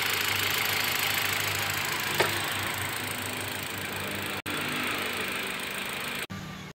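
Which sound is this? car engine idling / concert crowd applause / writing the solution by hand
car engine idling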